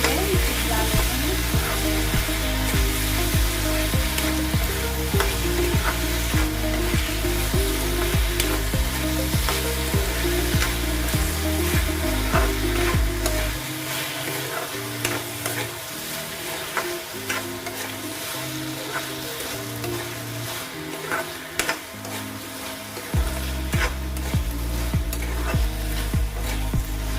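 Sugar is stirred in a pan as it melts, giving continuous scraping and sizzling that thins for a stretch midway before returning, with a melodic backing underneath throughout.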